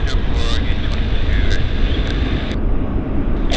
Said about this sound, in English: Fabulous landing.